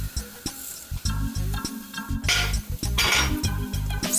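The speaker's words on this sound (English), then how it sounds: "Stir the rice into the onion." Rice being stirred into sautéed onions and curry leaves in a pot for a Durban seafood curry, with a spoon clinking and scraping against the pot in a steady, repeated rhythm, close up and with no talk.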